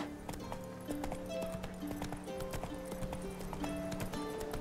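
The horse in The Witcher 3 gallops in a steady, loud, rhythmic clip-clop of hooves that runs throughout, alongside game music tones.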